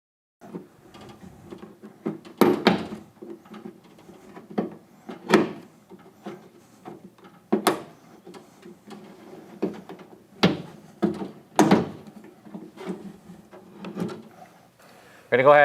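A weatherstrip tool pries the outer belt line molding off a Ford Bronco door, releasing its clips in a series of sharp clicks and rubbing scrapes at close range, with someone talking throughout.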